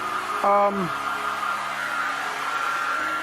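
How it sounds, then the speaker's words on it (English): A steady hair dryer blows throughout, drying acrylic paint on a deer taxidermy form, a continuous airy whir, with a brief harmonic whine near the start. "use a hairdryer to help dry your acrylic paints"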